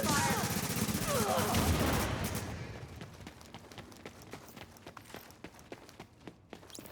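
A heavy volley of video game gunfire roars at the start, then thins into sharp, separate shots and footstep-like ticks that grow fainter and sparser.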